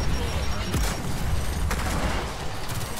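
Sniper gunfire in Gears of War 4 cracks out in a few sharp shots over a dense, noisy battle backdrop, with voices talking through the action.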